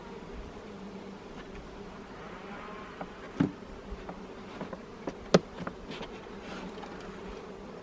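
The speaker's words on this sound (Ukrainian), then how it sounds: "за застаною багато бджіл на цих рамках медових" Honey bees swarm over honey-filled hive frames at an apiary, giving a steady, close buzzing drone throughout, with a few knocks and clicks from the frames being handled.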